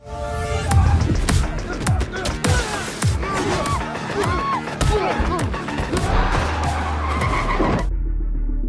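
A bus skids to a stop in a film scene, with loud tire squeals and screeching scrapes, heavy thuds and impacts, ending abruptly in a sudden cut to quieter sound.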